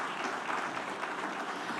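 Dense audience applause at an awards event, a steady wash of many hands clapping, loud and continuous for the whole short stretch.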